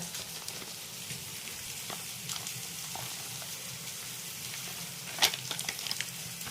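Masala paste frying in a pan for chicken curry, an even, crackling sizzle with occasional stirring scrapes and one sharper clatter near the end.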